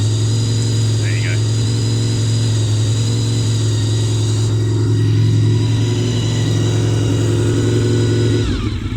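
A VFR 750 motorcycle engine with reground valve seats idles steadily and loudly up close, its even, droning tone holding constant throughout.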